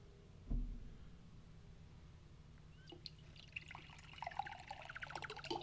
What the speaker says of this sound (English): Trying to sneak some water over here